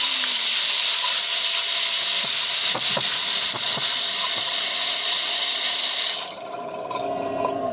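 Water gushes loudly and steadily into a bucket in a video game, a constant hissing pour that cuts off abruptly near the end, leaving a quieter background.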